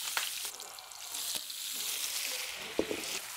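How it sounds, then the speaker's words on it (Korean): Olive oil fries in a pan with a loud, continuous hiss and sizzle, broken by a few clinks and stirring scrapes from close by. "이렇게 튀기듯이 아까하고 똑같아요"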